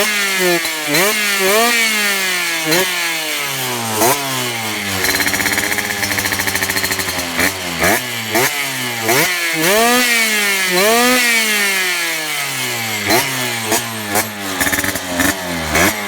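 Sherco motorcycle engine running loud and close, revving repeatedly in sharp bursts over a steady rattling idle, with no talking.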